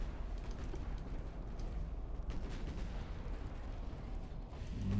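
Naval gunfire from light cruisers and warships in the naval strategy game Ultimate Admiral Dreadnoughts, a steady dense rumble of repeated cannon booms and distant blasts rolling on without pause, swelling slightly near the end.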